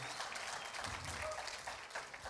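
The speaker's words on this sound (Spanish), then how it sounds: "¿Y por qué no le da un aplauso de ánimo aquí a Ismael" A church congregation claps together in a steady, continuous wash of applause, fairly quiet and sustained from start to finish.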